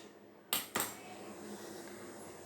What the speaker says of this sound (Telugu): ఇలాంటి ఒక వెడల్పాటి బౌల్ తీసుకోండి